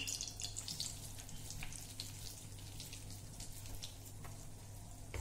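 Wheat flour roasting in ghee in a pan, a soft steady sizzle with faint crackles running throughout, close and fairly quiet, with no voices.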